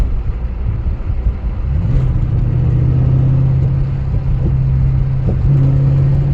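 A car with traction control switched off accelerates hard, its engine rising into a loud, sustained droning roar with a steady low hum, heard close from inside the vehicle.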